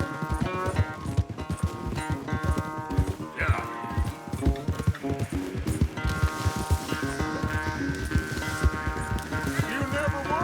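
In the video game Red Dead Redemption 2, a horse gallops in quick, rhythmic hoofbeats beneath loud music, with voices in the background.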